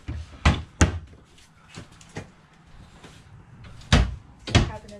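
Cabinet doors in a Cougar 30FKV camper being opened and shut, several sharp wooden knocks and thunks spaced irregularly, with two louder closes at the start and end.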